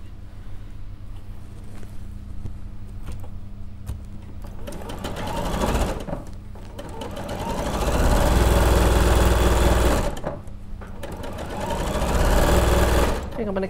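A sewing machine stitches quilt triangles in two long loud runs with pauses between, close up, while people talk over and between the stitching.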